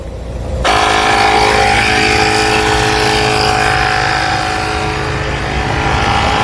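A loud car engine runs at an on-scene police stop in Brazoria County, Texas, kicking in suddenly after a quieter moment and then holding a steady, close, droning roar with a tonal hum throughout.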